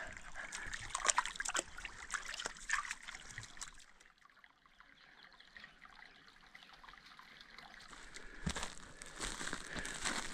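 Water trickles softly into a small pool at the bottom of a narrow rock cut in the woods, a faint, continuous babble with occasional light splashes and rustling.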